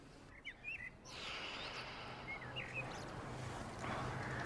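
Birds chirp outdoors during a quiet meditation, short tweets repeating at a distance over a soft, steady wind-like hiss, with no voices.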